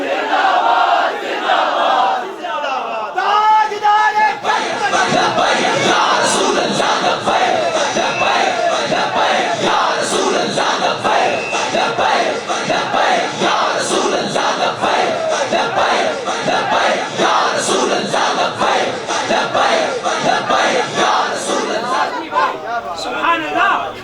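A large crowd at a religious gathering loudly chants the slogan Tajdar-e-Khatm-e-Nabuwwat, a dense roaring mass of voices that continues without a break at full volume.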